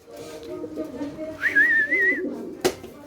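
Male silver pigeon cooing close by in a breeding loft, low warbling coos with a brief higher whistle-like note in the middle and a sharp knock near the end.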